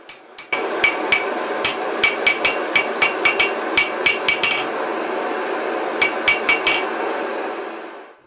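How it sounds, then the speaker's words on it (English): A hammer rings out in sharp metallic strikes on a hot steel knife blank being hot cut to form the point, landing in steady irregular blows near and loud over a low ringing hum, with no talk. "Now I'll hot cut the blank to form the point"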